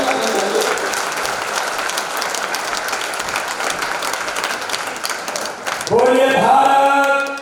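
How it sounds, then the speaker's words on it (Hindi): A crowd at a political party meeting in Katni keeps up dense, steady clapping and cheering for several seconds, and it swells louder near the end as the applause intensifies. "एक बार जोर से ताली बजाओ।"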